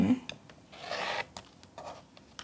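Quilt fabric trimmed a quarter inch from the seam line with a dull blade, giving a close, soft scraping rasp in a couple of short strokes, one longer pass, and a few faint cutting ticks.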